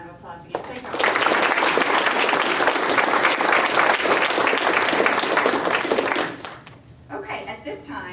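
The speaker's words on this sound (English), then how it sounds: "Let's give all of our speakers a round of applause again." An audience at a national signing day ceremony breaks into loud, sustained applause for the speakers, dense clapping that rises sharply, holds for several seconds, then fades as a voice resumes.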